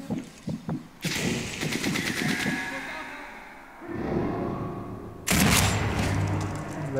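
Loud gunfire in the Sniper Elite 4 video game: a few sharp shots at the start, then a long roaring burst of rapid fire, a quieter lull, and another heavy volley near the end, with a voice talking over parts of it.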